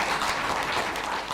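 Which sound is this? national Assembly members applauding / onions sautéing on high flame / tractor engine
national Assembly members applauding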